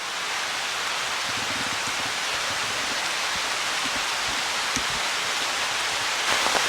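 A rain shower falling on an umbrella during a nature walk: steady, dense patter with scattered louder drops tapping close by, continuous and without speech.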